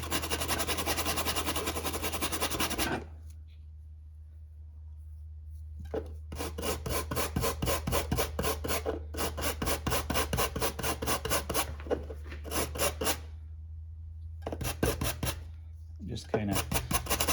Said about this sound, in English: take a wire brush